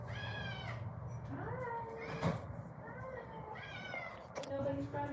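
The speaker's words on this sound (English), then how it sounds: "I heard the cat." A hungry house cat meows repeatedly and fairly close, a series of drawn-out rising cries spaced a second or so apart over quiet indoor background.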